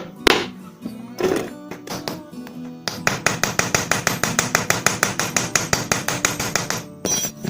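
A hammer taps a Honda Megapro motorcycle cam chain tensioner in a quick steady run of sharp metallic knocks, a couple of heavier single blows at first and then a fast even series of close, loud taps.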